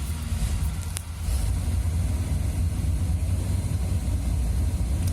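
An old classic van engine idles roughly with its timing off, a steady close, loud low rumble with uneven pulsing and no talk over it.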